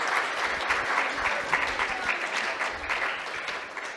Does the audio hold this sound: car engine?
no